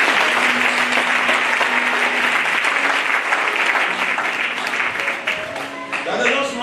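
A church congregation applauding during a Sunday service, loud and sustained clapping filling the room, with voices mixed into the applause before it thins slightly near the end.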